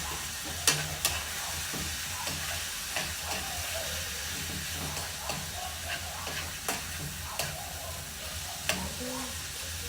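Meat frying in a pan for adobong okra, a steady loud sizzle under repeated clinks and scrapes of a utensil stirring against the pan, close and without speech.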